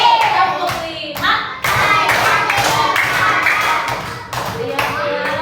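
A classroom of young first-grade children claps along in a counted pattern, bursts of hand claps under overlapping speech from the teacher and kids.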